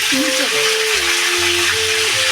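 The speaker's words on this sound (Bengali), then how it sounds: "আমি ফুলকপিটাকে হালকা করে ফ্রাই করে নেব" Cauliflower fries in oil and ghee in a wok, giving a continuous close sizzle and hiss while a voice talks over it.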